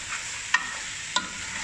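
Chicken masala is stirred in a pan over a soft background sizzle, with two distinct utensil scrapes against the pan, close and fairly quiet, and no speech.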